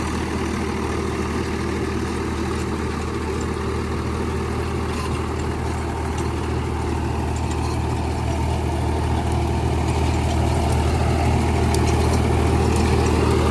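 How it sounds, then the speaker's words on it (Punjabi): A Mahindra 275 DI tractor engine, used to pull a rotavator, runs smoothly at a steady, even pace. The deep, continuous diesel drone stays close and unbroken, with no talk. "ਟਰੈਕਟਰ ਬਹੁਤ ਜਾਨਦਾਰ ਆ ਜੀ ਵਧੀਆ ਟਰੈਕਟਰ ਆ ਆਰਾਮ ਨਾਲ ਚੱਲ ਰਿਹਾ"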